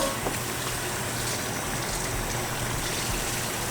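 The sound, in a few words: water poured into cooking pan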